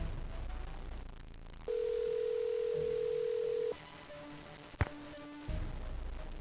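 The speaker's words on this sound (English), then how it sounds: "Let's call George and see what she says." A telephone call rings out in the Nancy Drew: Stay Tuned for Danger computer game: one steady electronic tone lasting about two seconds, clear and loud over a quiet background.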